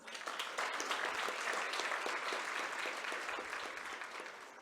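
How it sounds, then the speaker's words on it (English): An audience at the inaugural session of a young leaders summit gives warm applause, a steady wash of many hands clapping for nearly five seconds, heard softly and at some distance. "May I request you all to welcome him with warm applause."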